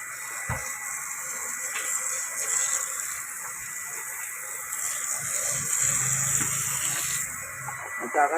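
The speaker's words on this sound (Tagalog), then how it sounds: "Sa ngayon, nagkakarga lang ng tubig muna." Washing machine tub filling with water during the final rinse, a steady gushing, rushing stream running close by for several seconds beneath a faint high hiss.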